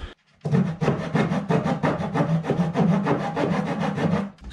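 Old sealant gunk being scraped off the planking of a wooden boat, a close run of quick rhythmic rasping strokes that continue steadily for several seconds with no talk.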